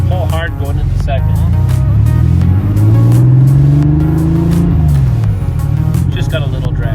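Porsche 911 Carrera Targa engine pulls hard and loud, a rising then falling drone climbing through a gear with speech over it and passing traffic around.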